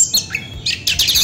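An oriental magpie-robin (kacer) sings in close, loud bursts of bright whistles and chirps with brief gaps between phrases.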